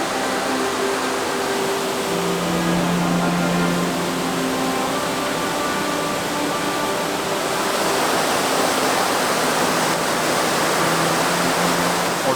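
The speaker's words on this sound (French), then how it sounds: "On a un enchaînement de cascades qui est magnifique" A series of cascades on a river near an old mill, a loud constant rushing roar of falling water with no pauses and no voices.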